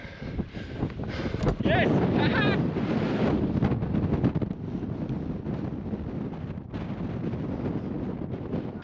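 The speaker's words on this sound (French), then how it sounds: "Oh le vent!" Strong wind on a Scottish hilltop buffets the microphone with a loud, continuous roar that surges and eases, while someone speaks and shouts over it.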